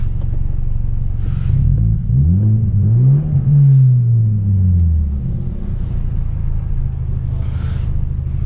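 A BMW F30 engine idles with a deep, loud exhaust rumble, then revs up and falls back down once before settling into a steady idle.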